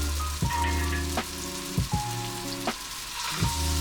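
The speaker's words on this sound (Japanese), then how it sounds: "で油をひいて玉ねぎを炒めていきます。" Onions fry in oil in a pan, a soft sizzle under a low tonal hum, broken by several sharp stirring knocks at irregular intervals.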